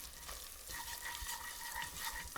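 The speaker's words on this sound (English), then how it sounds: "now goes the flour to create the roux" Refined flour cooks into a roux with spices in a hot pan, giving a soft continuous sizzle with scraping stirs, close and fairly quiet, with no talking.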